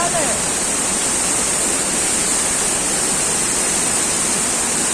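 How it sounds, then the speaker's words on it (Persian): Three waterfalls roar in a steady, loud, broadband rush of falling water, continuous and unbroken throughout, with no distinct voices standing out. "سه آبشار"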